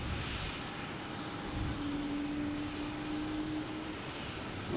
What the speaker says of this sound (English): Lufthansa has moved out of the way to let a Delta plane take off, heading to San Diego, an A321neo